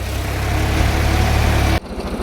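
Tractor engine drones loud and close while ploughing a field, a continuous low rumble that suddenly drops to a quieter, pulsing throb near the end.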